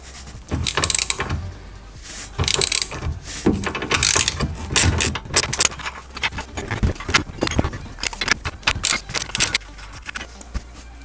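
A ratchet clicks rapidly and loudly up close as it undoes 20mm bolts on a Tesla Model 3's underside, working in repeated bursts of spinning and turning, with no voices.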